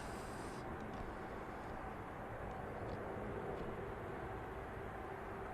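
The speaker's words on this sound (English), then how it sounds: "This aircraft heading over to the Big Apple in New York." A jet bound for New York passes over Manchester Airport, its steady, broad engine roar holding at an even level with no talk.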